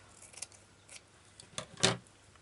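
Scissors cutting fabric during a craft project, a few short quiet snips spread out, the last one louder and closer, with no talking.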